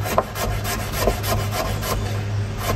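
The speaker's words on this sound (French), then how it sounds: "Et moi je vais le hacher comme ceci" A knife finely chops garlic on a wooden board, giving a quick, steady run of close, soft rhythmic taps and scrapes with no talk.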